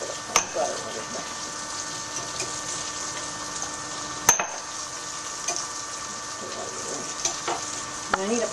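Floured chicken browning in a little butter in a pan gives a soft, steady sizzle, with occasional clinks and stirring taps over a low background hum.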